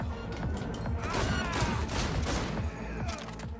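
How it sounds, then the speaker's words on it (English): Gunfire from a newly acquired gun in a video game, a dense, loud burst of overlapping shots running throughout, with crashing impacts mixed in over busy game sound. "I don't think I was supposed to make all that noise, but I shot somebody."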